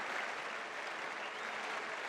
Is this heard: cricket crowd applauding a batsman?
yes